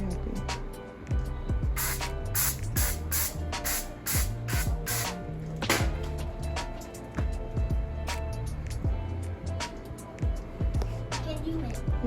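Bursts of aerosol spray hiss repeatedly in short and longer sprays, close up, while voices talk over them.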